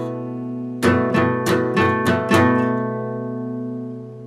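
A guitar chord strummed slowly in a down-up pattern, six distinct strokes about a third of a second apart, each ringing into the next before the sound fades out alone.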